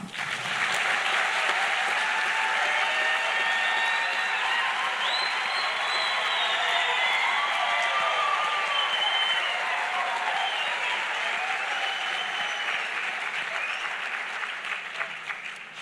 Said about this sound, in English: Shall we give them all a round of applause?